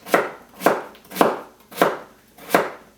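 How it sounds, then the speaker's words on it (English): Knife chopping potatoes into cubes for a Tuscan zuppa frantoiana: five loud, steady, evenly spaced chops on a cutting board, close up and alone. "cutting them in cubes. So down the middle, and then I cut the slices"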